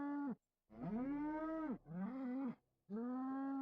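A cow in the South Park video game lets out three long, loud, close moos in a row, each low and drawn out with short silent gaps between.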